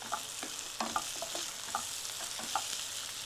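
Onions frying in a pan for a potato and sesame fry, a steady soft sizzle with scattered light scraping taps of stirring, moderately quiet and without voices.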